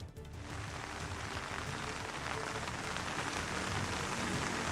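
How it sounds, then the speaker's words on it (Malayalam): Heavy monsoon rain pours down steadily in Pathanamthitta, Kerala, a dense continuous hiss of drops hitting surfaces, swelling slightly after a brief quieter opening. "കനത്ത മഴയാണ് ജില്ലയിൽ ലഭിച്ചുകൊണ്ടിരിക്കുന്നത്"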